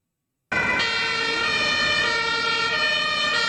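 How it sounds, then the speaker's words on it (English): A fire truck siren blares loud and close, a steady wailing tone that starts abruptly and holds without pause. "You want to hear how good our fire trucks sound?"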